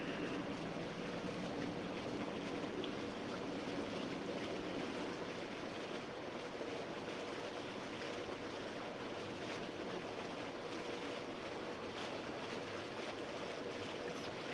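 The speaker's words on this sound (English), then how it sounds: "It's really bubbling." Water bubbling in a hot tub fed by a hose with a hole in it. It is a faint, steady, even wash of churning water that runs without a break, with no voices.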